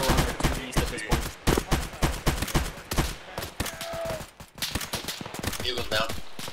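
Dense, rapid gunfire crackles in an Arma firefight near a checkpoint, with overlapping shots in quick irregular bursts, loud and close throughout, and radio voices talking in between.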